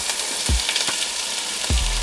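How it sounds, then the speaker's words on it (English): Onions and peppers frying in a pan, a steady bright sizzle with a few soft knocks and scrapes of stirring, close and loud with no talking. "we want our onions and our peppers to cook for at least 4 minutes or until they become translucent before we add our garlic"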